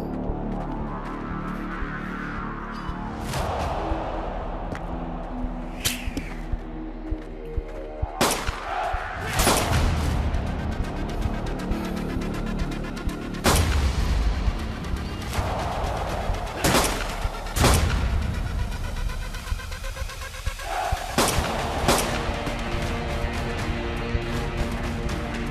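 Repeated gunshots from a firearm in the medieval combat game Blade & Sorcery, sharp loud cracks fired in irregular bursts over a constant game hum and ambient clatter.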